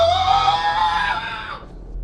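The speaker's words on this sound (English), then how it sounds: "dropping to his hands and knees and letting out a pained scream." A man's pained scream from a tense TV drama scene, one loud sustained cry that wavers and fades out after about a second and a half, heard alone with no talk.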